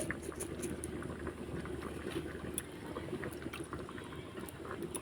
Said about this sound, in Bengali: আর ওদিকে বাঁধাকপিটা সিদ্ধ হতে থাক